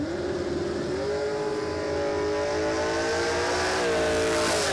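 A drag racing car revs hard at a dragway in Australia, its loud, sustained engine note climbing and shifting in pitch across the whole stretch with no pauses.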